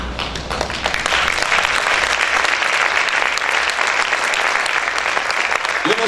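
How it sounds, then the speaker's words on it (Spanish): A church congregation breaks into loud, continuous applause after a sermon line, dense clapping building within the first second and holding strong to the end, with a brief voice at the close. "si usted está aplaudiendo porque lo entiende o porque no lo entiende"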